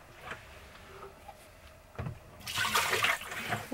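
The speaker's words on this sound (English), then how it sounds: "Time to rinse the dishes." Water splashes and runs in a small van sink as dishes are rinsed, starting faint with light clinks and swelling into a louder steady rush of running water in the second half, with no talking.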